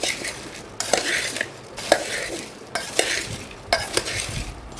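Homemade bhel mixture stirred in a bowl, a spoon scraping through puffed rice and sev in four rhythmic bursts with short pauses between, close and fairly loud, no voices.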